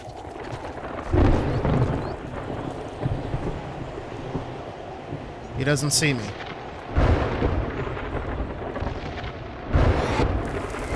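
Rumbling thunder and steady wind from a desert storm in the video game 7 Days to Die 2.0, with low roars swelling and fading over a constant gusty bed while someone talks over it.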